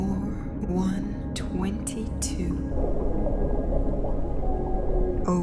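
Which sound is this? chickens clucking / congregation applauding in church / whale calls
whale calls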